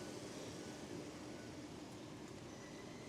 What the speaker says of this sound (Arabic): طبعا عشان المكيف شغال